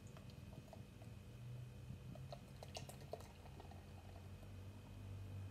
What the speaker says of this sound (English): You can be aggressive with a pour because it's a pint glass.